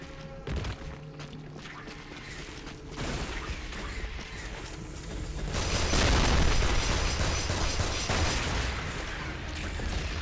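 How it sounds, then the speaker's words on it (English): Explosion in the video game Damnation: a dense, roaring blast that swells into a loud sustained rumble with crackling debris, preceded by scattered thuds and mechanical clatter, with no talking. "I was curious if that explosion was going to kill you."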